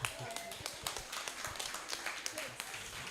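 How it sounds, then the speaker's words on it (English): Scattered audience clapping for the MCs at a conversation event, a loose irregular patter of hands, fairly faint and uneven, with speech mixed in. "So, clap for the MCs."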